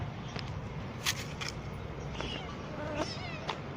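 A cat hiding under a car meows, giving several thin, close cries over an outdoor background hum, with a few brief clicks and rustles between calls.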